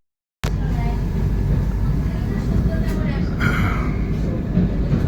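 Vande Bharat Express train running between Howrah and NJP, heard from inside the coach as a steady, loud low rumble and rolling noise throughout, with faint voices underneath.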